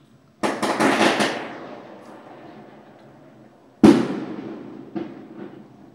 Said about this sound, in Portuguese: Tem gente soltando fogos desde mais cedo aí.